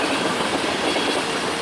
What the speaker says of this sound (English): this would be the last train catching on the Cleveland District here at Joba.